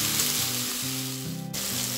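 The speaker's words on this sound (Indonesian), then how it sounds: "Lalu kita masukkan bawang merah, cabai rawit, cabai merah kita masukkan. Kita tumis sampai semua bumbu-bumbunya matang." Shallots, bird's eye chilies and red chilies sautéing in hot oil for a spicy bean sprout and tofu stir-fry, a loud close continuous sizzle with faint scraping of stirring underneath.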